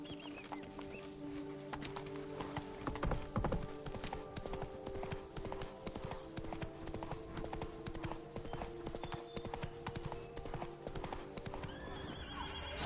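Video game horse hooves clip-clop steadily at a trot after the rider urges it on, with a brief whinny, close and continuous over a faint background.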